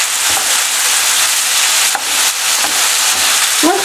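Oil sizzles and fries steadily in a pan of Tunisian stuffed peppers with garlic, black pepper, caraway, turmeric and red pepper, a loud continuous hiss with a few faint scrapes of stirring, no voices.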